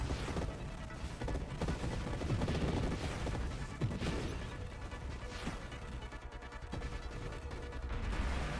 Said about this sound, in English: Launch the big fireball.